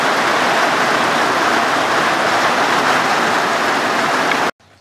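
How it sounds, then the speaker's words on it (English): Rain pours down steadily during a bicycle ride, an even, loud hiss that stops abruptly just before the end. "I'm waiting on the rain to quit"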